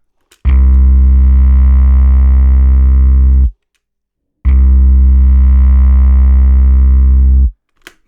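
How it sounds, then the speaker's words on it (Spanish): Two sustained tones, heavily distorted to add harmonics, each about three seconds long with a gap between them, loud and buzzy with a rich, bright overtone stack and no voices. "la distorsión es un proceso por el cual nosotros añadimos armónicos a un sonido"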